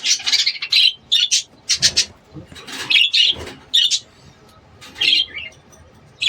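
Lovebirds chirp in bursts, sharp bright calls coming in quick irregular clusters with short quiet gaps between them, close and clear.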